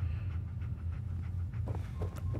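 Dogmeat, the dog companion in the video game Fallout 4, panting softly in quick rhythmic breaths over a low rumbling game ambience, fairly faint and steady throughout.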